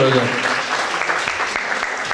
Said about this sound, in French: Vous pouvez applaudir bien fort, qui vient de nous rejoindre.